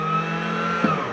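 A Bobcat skid steer's engine turns over during a cranking attempt without firing, a steady loud mechanical drone with a single brief thump near the end.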